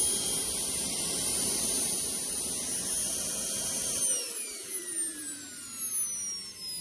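A JetCat P120 kerosene-start model jet turbine shuts down: a loud, steady high whine and roar holds, then the pitch glides steadily downward as the engine spools down and the rumble fades.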